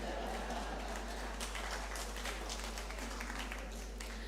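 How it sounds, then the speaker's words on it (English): Applause from the crowd at a groundbreaking ceremony for the construction of Goodwill Secondary School, a faint, steady wash of many hands clapping at a distance, with no voices over it. "You can clap, Wayne?"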